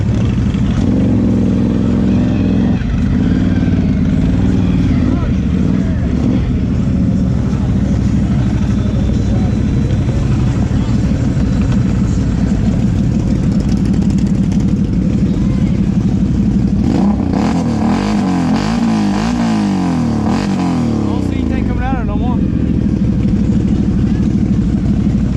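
Can-Am Outlander XMR 1000 ATV wading deep through a river, its engine roaring loud and continuous with rising and falling revs and a surge near the end, water churning throughout.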